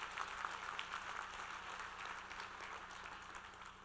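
An audience at a crypto-currency business talk in Houston gives a faint, distant round of applause, a soft continuous patter of many hands with a few sharper claps near the start.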